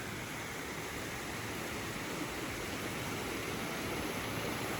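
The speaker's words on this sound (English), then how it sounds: "We've come for a walk down to the creek, which is usually a slow trickle after all the rain that we've had, and it is absolutely smashing." A rain-swollen creek, normally a slow trickle, rushes past in a steady, loud broadband roar of flowing water with no pauses or voices.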